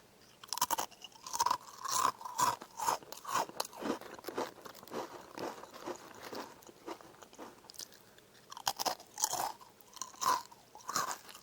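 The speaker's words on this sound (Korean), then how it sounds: "포장을 뜯었습니다. 이제 먹어보겠습니다." A crunchy snack being eaten up close, with repeated loud crunching bites and chewing bursts in an irregular rhythm and no talking.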